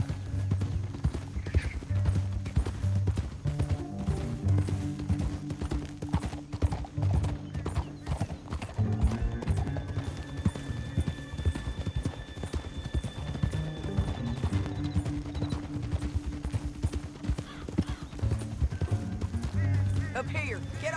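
Hooves clip-clop in a fast, steady galloping rhythm throughout in Red Dead Redemption 2, with occasional horse snorts and voices talking over the pounding.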